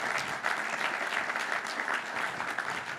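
Audience applause at a quantum computing campus announcement, an even wash of clapping for three seconds, moderately loud and without speech over it.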